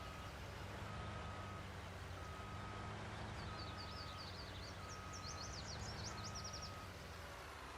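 Reversing beeps from a truck in Farming Simulator 19 chirp repeatedly at a steady rhythm over a constant engine rumble, fairly distant and moderately loud, with no talk during the beeping.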